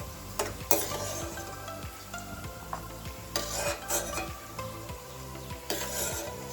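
Raisins and cashews crackle and hiss in hot ghee in a pan, a steady close sizzle broken by repeated scraping strokes of a stirring spoon against the metal.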